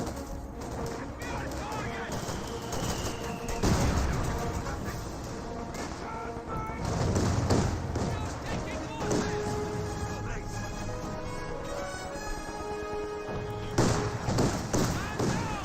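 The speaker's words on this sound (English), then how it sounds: "Conscripts are receiving some auto-cannon fire there." Autocannon bursts and explosions thud through a battle in the video game Company of Heroes 2, with repeated heavy impacts over a dense, continuous wash of combat noise and music, no voices.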